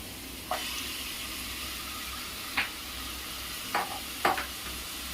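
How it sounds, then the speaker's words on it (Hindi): Marinated chicken sizzles softly and steadily in a pan over high flame, with a few sharp clinks of a utensil scraping or stirring at irregular moments. "अब हाई फ्लेम पर कर रही हूँ और जो मैरिनेट किया हुआ चिकन है उसे मैं डाल दूंगी"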